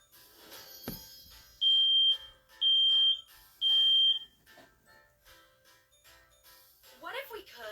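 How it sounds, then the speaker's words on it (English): Three loud, evenly spaced high-pitched smoke alarm beeps sound, each about half a second long, with quieter background noise and some voices around them. "Smoke alarm."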